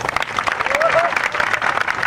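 Strong applause fills a Thakor community folk music event, broad steady clapping with a whistle rising briefly through the middle.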